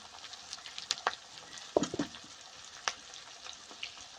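Onions and green chillies frying in a pan after garlic and ginger, for a palak paneer sabji: a steady soft sizzle with scattered crackles and a few louder pops and stirring knocks, close up and alone.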